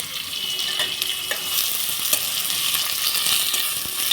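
Onions frying in hot oil for a mutton curry, a steady close sizzle with faint crackles and pops, no talking.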